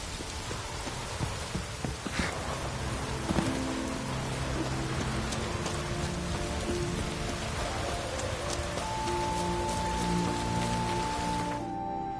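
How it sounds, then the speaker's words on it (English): Heavy rain pours down in a dense, continuous hiss and patter of drops hitting surfaces, close and steady from start to finish, with no talking. "Raining fucking buckets."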